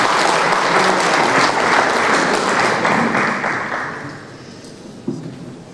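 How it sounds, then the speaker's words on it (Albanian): A conference audience applauds after an academic title is announced, a dense, steady wash of clapping that holds for about four seconds, then thins and fades, with one last sharp clap near the end. "një duartrokitje"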